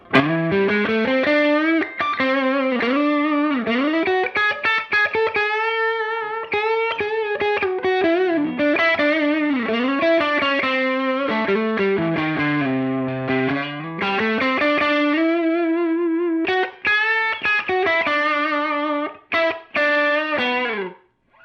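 An electric guitar through an Ibanez TS9 Tube Screamer reissue overdrive pedal plays a continuous melodic phrase with gritty, sustained distorted tone, loud and close, with no talking.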